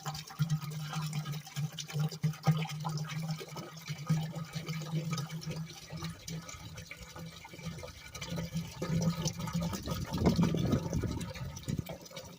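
Muriatic acid is poured into a large container to mix with hydrogen peroxide, a gurgling, splashing liquid stream with a low resonant fill tone that swells toward the end, recorded close up.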